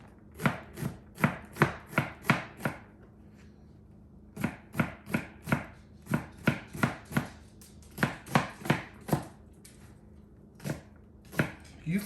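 A knife chops celery on a cutting board in quick, even rhythmic runs of crisp taps, pausing briefly between bursts, close and clear.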